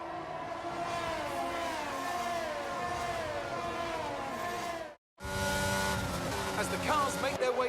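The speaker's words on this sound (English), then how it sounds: "As the cars make their way back to the starting grid to form up and get ready for lights out" F1 race cars on a formation lap at Abu Dhabi in F1 22, whining engine notes rising and falling as cars pass nearby, with a brief dropout partway through before the engines resume with a voice over them.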